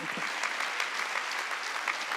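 A church congregation clapping during a Sunday worship service, an even, sustained patter of many hands at moderate distance, fairly quiet and without voices.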